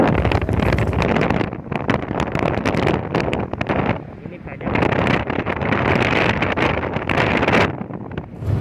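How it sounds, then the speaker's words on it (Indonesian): Wind gusting across the microphone on a Surabaya street trip, a loud broadband rush in two long surges with a brief dip midway. "Dengarkanlah bisikan angin, seakan-akan membisikkan sesuatu tentang Indonesia"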